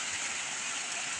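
Rain falls steadily in a continuous, even hiss of fairly close downpour with no breaks and no talk.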